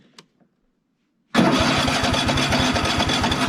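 A small engine is started with the choke on: after a couple of faint clicks and near silence, it suddenly fires and settles into a loud, close, rapidly pulsing idle.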